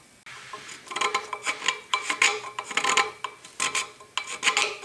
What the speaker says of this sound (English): What I ended up doing is just using a wood turning scraper.